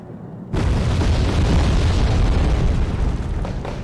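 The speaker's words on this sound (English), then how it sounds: "Bombing run is successful." Loud, sustained explosions from a bombing run in the strategy video game Wargame: Red Dragon, a heavy rumbling boom that bursts in after half a second and rolls on continuously to the end.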